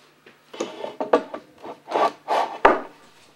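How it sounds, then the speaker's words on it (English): Glued wooden boards are laid flat onto bar clamps, giving a series of close wooden scrapes, rubs and knocks in an uneven rhythm, with no voices. "When all the edges are coated, I lay the boards flat on the bar clamps"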